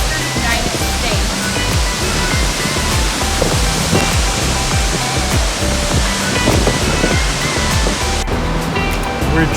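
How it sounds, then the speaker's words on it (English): Fall Creek Falls, a 256-foot waterfall in a Tennessee state park, heard up close as a dense, steady roar of falling water that runs loud and unbroken throughout. "The next waterfall we saw was Fall Creek Falls. It stands at 256 feet tall."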